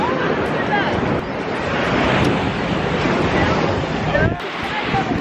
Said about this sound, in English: Trying to find a spot on the beach so the waves don't come up to us.